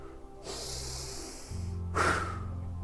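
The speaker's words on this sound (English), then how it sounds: "You want your inhale to be longer than your exhale." During a calming breathwork exercise, a long nasal inhale is followed by a shorter exhale, both close and soft with an airy rush.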